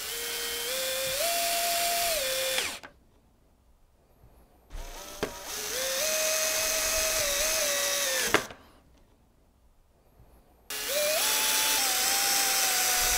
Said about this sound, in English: For the purposes of this video I'll be using a drill